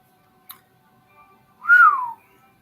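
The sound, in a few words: narrator imitating a wolf whistle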